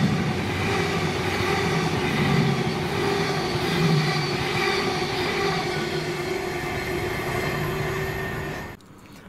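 A train led by Class 66 locomotive 66701, running from Pomadee to Inverness in Scotland, rumbles past loud and close for about nine seconds with steady rolling noise, then cuts off abruptly near the end; no voices.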